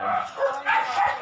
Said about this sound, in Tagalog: Kaya mga sumalubong sa atin na itong ating mga alagang aso.